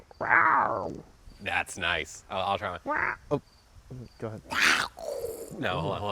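A person attempts a growl, imitating a catlike sound with a strained, raspy voice, amid several voices chatting and laughing close by.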